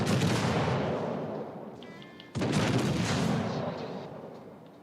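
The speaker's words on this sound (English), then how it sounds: "Nelson is firing HE" The battleship Nelson fires HE shells in World of Warships. One deep, heavy gun blast opens, a second booming salvo follows midway, and each rumble slowly fades with no talking.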